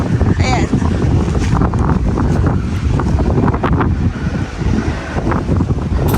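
Strong wind buffets the microphone at a house extension construction site, a loud, continuous roaring rumble with gusty surges throughout.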